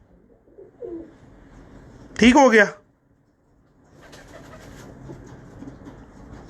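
A purebred pigeon wearing a silver ring, kept by a Pakistani pigeon club fancier, gives one loud, close coo lasting about half a second, with a man's brief speech before it and a steady background hum.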